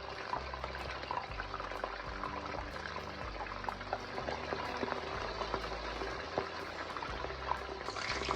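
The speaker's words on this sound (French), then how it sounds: "Et je vais ensuite frire le poisson, toujours dans la même huile de beignets" Fish frying in reused fritter oil, a steady dense bubbling sizzle that continues evenly throughout with no voices.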